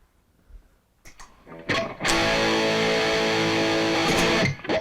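Electric guitar through a Wampler Pinnacle Deluxe distortion pedal under repair: a few picked notes, then a loud, saturated chord rings out and sustains thick and buzzy for over two seconds before cutting off.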